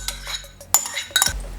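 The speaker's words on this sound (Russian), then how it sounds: "солим по вкусу и тщательно перемешиваем" A metal spoon scrapes and clinks against a pot while mashed potato filling with fried onion, butter, black pepper and salt is stirred, giving a few quiet, irregular taps and scrapes close by.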